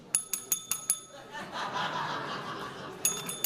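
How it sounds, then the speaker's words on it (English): A small hand bell rings in a quick run of about five sharp strikes, then again briefly near the end, with murmuring crowd noise and light laughter from a gathered audience between the rings. "You like my bell, don't you?"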